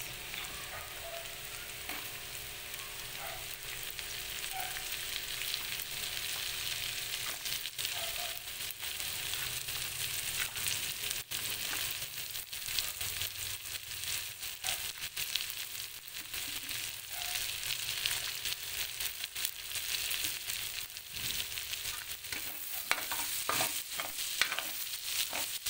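Onions frying and being stirred in a pan for pork rib kaldereta, a steady sizzle running throughout with occasional scrapes and clicks of the utensil against the pan, close and continuous.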